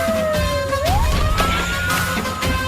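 A loud police siren wails nearby, its pitch sliding down and then rising again over a rumbling engine, with no talking.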